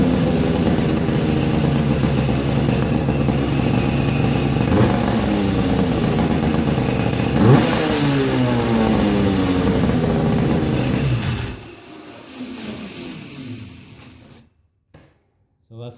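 A Honda CX500 engine fitted to a homemade kart runs loudly for about eleven seconds, with a sustained throaty exhaust drone and rising and falling revs. It then cuts off to a quieter tail with faint handling noises.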